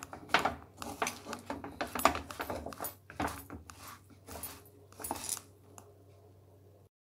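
Rice flour dough for a Karthigai Deepam prasadam being worked and stirred in a metal pan, a run of close scraping and clinking strokes that slows and then stops.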